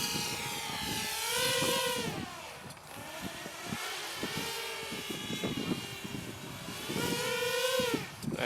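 A Walkera F210 3D drone flying stunts such as barrel rolls and inverted passes, its propellers whining loudly and rising and falling in pitch as it maneuvers nearby.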